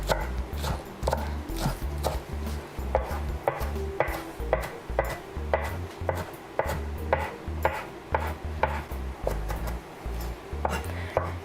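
A knife chops fresh spinach finely, rapidly and steadily on a cutting board, a quick run of sharp knocks with a low background hum underneath.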